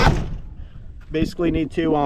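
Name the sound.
truck cab door closing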